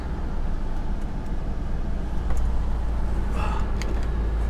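A Ford 4.6 liter 3-valve V8 idling, a deep, steady low rumble that holds even throughout, close by, with faint clicks and a brief lighter sound near the end.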